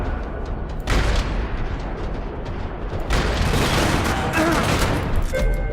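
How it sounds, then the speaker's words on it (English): Gunfire rattles across a parking lot in the video game Max Payne 3, rapid bursts and booming shots close by, with a couple of sharp surges in intensity over a continuous din. "Another parking lot rattling with gunfire."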